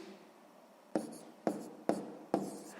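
Pen or pencil strokes on paper while numbers are written out for column multiplication, four short, quiet scratches at roughly even intervals in an otherwise quiet room.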